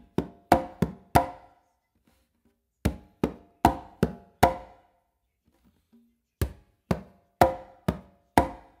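Conga strokes working through a 2-3 son clave independence exercise, crisp close hand hits in quick clustered groups of four or five separated by brief pauses, dry and upfront with no voices.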